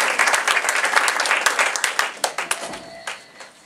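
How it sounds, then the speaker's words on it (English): An audience applauding a master of ceremonies at a live radio theatre event, a burst of dense clapping that thins into scattered individual claps and fades out. "Give him a round of applause."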